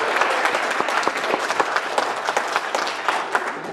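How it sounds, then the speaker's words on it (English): A family magic and skit show audience claps in a loud, close round of applause, dense crisp hand claps with sharp individual slaps standing out, sustained for the whole stretch with no talk. "they're going to give you one more round of wild applause as you go back to your seat."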